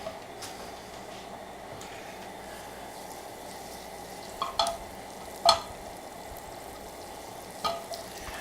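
Butter melts in a hot pan on medium-high heat, giving a steady low sizzle with a few sharp clicks and taps from a utensil toward the end, and no one speaks.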